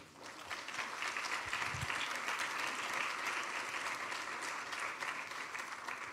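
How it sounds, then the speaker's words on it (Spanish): A church congregation at a Spanish-language service claps together for the Lord in dense, steady applause that fills the hall and carries on without a break, with no voice over it. "Denle un aplauso al Señor."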